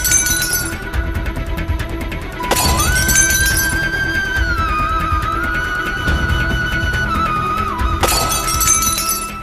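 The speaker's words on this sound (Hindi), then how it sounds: "ऐसा लग रहा है जैसे कहीं शीशा टूटा हो" Glass shatters in a Hindi TV drama scene, with loud crashing bursts at the start, again about two seconds in, and near the end, over a sustained musical tone.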